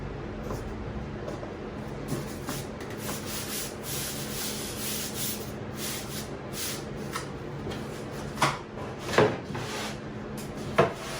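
A router cuts badly warped, bowed plywood along an attached CNC-cut guide, making a steady, rough, grinding hiss throughout with a few louder scraping surges near the end.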